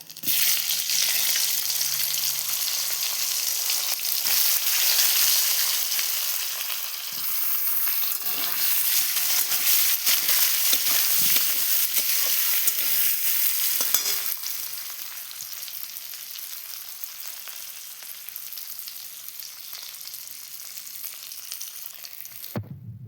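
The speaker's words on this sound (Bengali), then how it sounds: "এবার আমি আলুগুলো ভেজে নেব।" Potatoes frying in oil for a home-style egg curry, a continuous loud sizzle with occasional stirring that eases somewhat quieter in the second half, with no voices.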